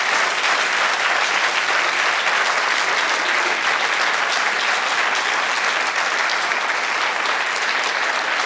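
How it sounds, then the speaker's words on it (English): Sustained applause from a live audience at a product launch event, steady and dense for the full stretch with no break or speech. "please give them a warm round of applause"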